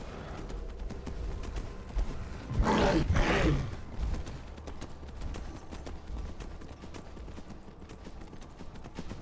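Dwarven horse hooves from Skyrim galloping in a steady clip-clop rhythm, with a louder swell of hoofbeats and rumbling midway before settling back into the running gait.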